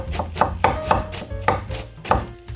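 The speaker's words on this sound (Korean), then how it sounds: "양배추를 딱 이래서 잘게 채를 썰어 주세요." A knife shreds cabbage rapidly on a cutting board, a steady series of crisp close thuds as it is finely sliced, no voices.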